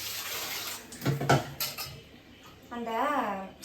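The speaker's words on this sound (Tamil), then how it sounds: "இந்த மீனெல்லாம் கொஞ்சம் வாஷ் பண்ணிவிட்டு" Tap water runs and splashes in a sink while fish are being washed, with a brief clatter of dishes and a short spoken word, close up.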